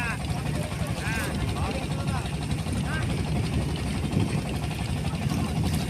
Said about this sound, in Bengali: এগুলো মাছ ধরা নৌকা।